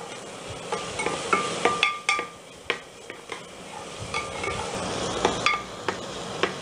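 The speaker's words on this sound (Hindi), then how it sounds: "अब हम इसमें डाल देंगे अदरक का पेस्ट ताकि साथ में भी फ्राई हो जाए, लहसुन का पेस्ट ताकि ये साथ में फ्राई हो जाए" Ginger and garlic paste frying in a pan with onions while a spoon stirs, soft sizzling under repeated metallic scrapes and clinks against the pan, close and without speech.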